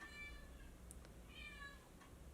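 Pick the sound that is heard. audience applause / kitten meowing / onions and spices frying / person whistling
kitten meowing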